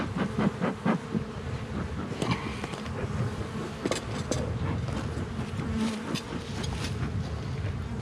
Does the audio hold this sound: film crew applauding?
no